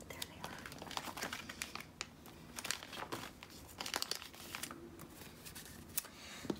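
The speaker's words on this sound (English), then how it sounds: "I'm flipping through trying to find my sleepy stickers." Pages of a sticker book flip and crinkle close by in quick, irregular rustles and soft slaps, carrying on throughout.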